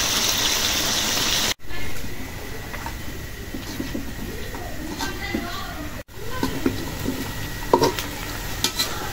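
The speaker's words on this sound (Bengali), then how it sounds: "মাংস ভালো করে ভাইজা নিলাম" Meat sizzles while frying in a pan, a continuous crackling hiss with occasional stirring scrapes, briefly interrupted twice by cuts, with a voice talking over it.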